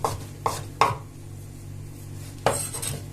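A knife chops kaşar cheese firmly on a board, three quick cuts then a pause and another chop, close up with a faint steady hum behind.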